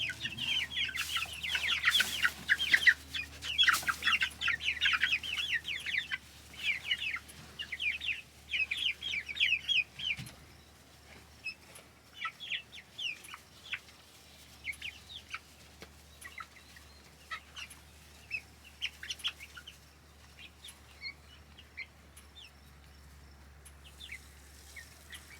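Chickens in a farm chicken tractor cluck and chatter repeatedly, busy and close at first, then thinning to scattered, fainter clucks over the following seconds.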